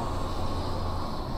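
A train passes close by near Alençon, a steady loud low rumble of rolling wagons holding evenly throughout without a break.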